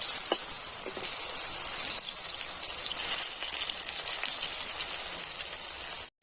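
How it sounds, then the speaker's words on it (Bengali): Garden eggplant slices, rubbed with salt and turmeric, fry in hot oil with a steady, close, hissing sizzle like light rain that continues evenly before cutting off abruptly. "বন্ধুরা, বেগুনগুলো সব ভাজা হয়ে গিয়েছে"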